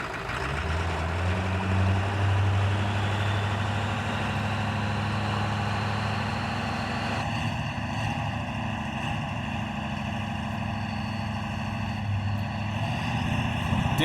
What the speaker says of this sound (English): Trying desperately to get that turbo spooled up so we can get the truck off the starting line